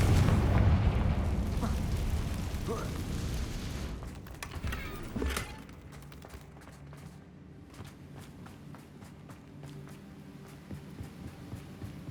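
Explosive spell blasts from the Hogwarts Legacy video game open with a loud rumbling boom that fades into a lower, crackling tail of smaller pops and debris over a steady hum.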